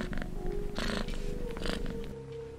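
A cat purring in a horror video game, a steady close rumbling purr heard alone with a few brighter bursts, no talk over it.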